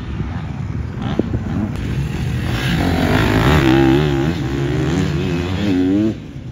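A motorcycle rides laps on a track at a night circuit in Spain, its engine droning loudly and continuously, rising and falling in pitch as it revs through the turns.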